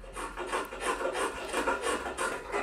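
A hand chisel scrapes and rasps out a cavity in a wooden seven-string guitar body, making steady rhythmic rubbing strokes at close range with no talking.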